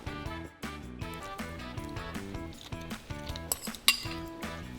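Jambalaya from a boxed Zatarain's mix is dished up from a pot, with a quick run of metallic clinks, scrapes and knocks over soft music-like tones.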